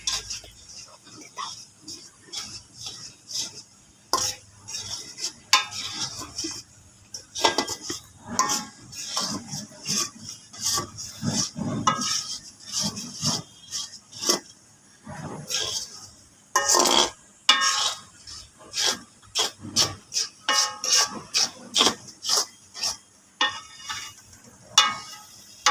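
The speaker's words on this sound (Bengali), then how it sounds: "এবার নাড়াচাড়া করে নিই।" A utensil stirs noodles in a cooking pan, with repeated clanks and scrapes against the metal in an uneven rhythm, loud and close. A voice speaks at times between the stirring.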